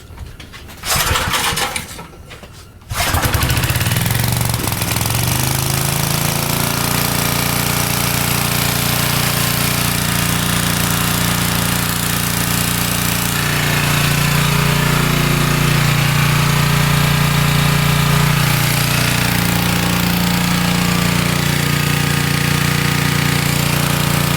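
An old Dayton alternator generator engine is pulled over and catches after a few seconds, then settles into a loud, steady, close running drone with a slight rise in pitch partway through.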